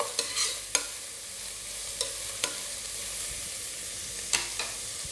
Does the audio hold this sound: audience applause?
no